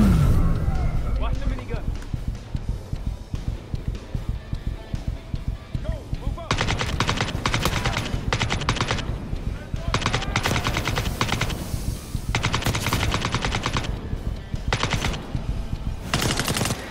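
Rapid minigun fire from Call of Duty: Black Ops 6 comes in long, loud sustained bursts, broken by short pauses, over battle noise and other gunfire, while voices talk underneath.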